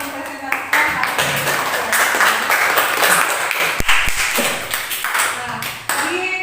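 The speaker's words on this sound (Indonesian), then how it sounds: "tepuk tangan untuk kelompok 2 yang telah mempresentasikan hasil" Classroom applause from students for a group that just presented, a burst of scattered clapping mixed with talk and room noise, fairly close and lively.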